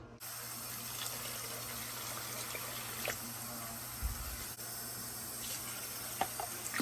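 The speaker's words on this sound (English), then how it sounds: "Now I'm going to add about 5 cups of water." Water pours steadily into a cooking pot as about five cups go in for a slow-cooked meal, a continuous close, even gush with a faint clunk midway and no talk.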